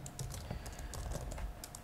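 Quick, light keystrokes on a computer keyboard, a close, steady patter of clicks with no talking over them.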